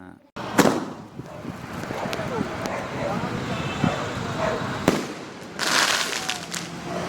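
Diwali firecrackers and bombs burst outdoors at night, with sharp loud bangs near the start and end and crackling in between, while people talk and a dog barks.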